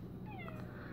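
A house cat gives a single quiet meow, short and plaintive, over a low steady background hum indoors.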